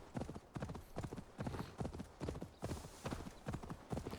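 Horse hooves clip-clop at a steady walking pace in Assassin's Creed Valhalla. The footfalls are even and rhythmic, about two per second, soft and close beneath a faint bed of ambient game sound, with no talk.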